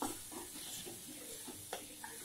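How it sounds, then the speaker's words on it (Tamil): Coriander, mint and grated coconut sautéing in a pan, a soft steady sizzle with a few light stirring scrapes and one brief clack near the end, no talking. "இதை நல்லா வதக்கி வைக்கிறோம்."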